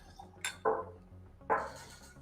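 Drinking glasses clinking at a live-streamed gathering: two bright, ringing clinks about a second apart, close and clear over a quiet background.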